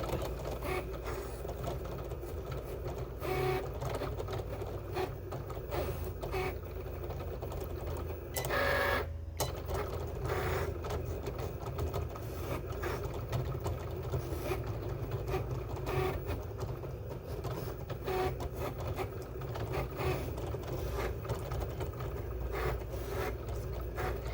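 A Cricut cutting machine works through adhesive cork, a quiet steady mechanical whir with faint scraping and repeated small motor movements, close by and continuous, with no talking.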